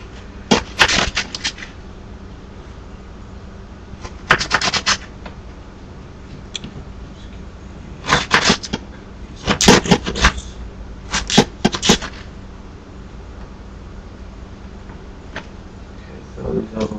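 A knife chops vegetables for chicken soup on a cutting board in short bursts of crisp taps, several clusters with pauses between them, close and distinct over a quiet kitchen background.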